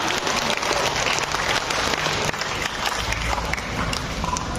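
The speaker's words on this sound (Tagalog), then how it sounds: "Lahat ng naniniwala ko malakpak na malakas na palakpak" Loud, sustained applause from a large church congregation, a continuous wash of clapping that holds steady throughout.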